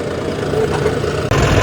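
A diesel Eicher tractor engine runs steadily at close range with a loud, low mechanical drone, then briefly cuts out and returns abruptly near the end.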